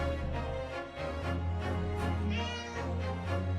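A kitten meows continuously in drawn-out, wavering cries, close and fairly loud, with no talk over it.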